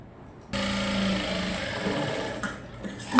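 An electric sewing machine stitching darts on the back of a gown, a steady close whirring run for about two seconds that slows and stops near the end.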